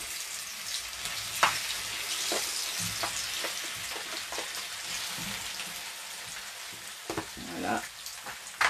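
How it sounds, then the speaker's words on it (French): A Spanish omelette mixture frying in a pan, giving a steady, faint crackling sizzle with scattered pops and the scrape of stirring, and a few brief sounds on top. "Je suis en train de le mettre dans la poêle."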